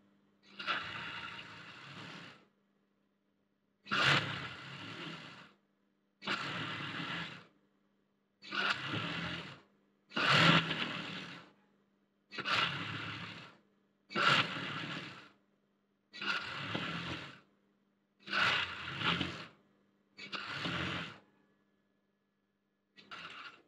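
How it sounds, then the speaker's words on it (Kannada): A sewing machine stitches the folded hem of a school uniform skirt in ten evenly spaced bursts of whirring, each about a second long and separated by short pauses of silence. "ಇದನ್ನ ಇವಾಗ ಫೋಲ್ಡ್ ಮಾಡಿ ಸ್ಟಿಚ್ ಮಾಡ್ಕೊತಾ ಇದ್ದೀನಿ."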